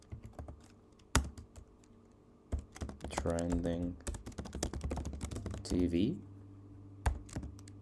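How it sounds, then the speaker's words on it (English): Bursts of rapid keyboard typing with sharp clicks, interrupted by a person speaking briefly in the middle. "let me just start by typing"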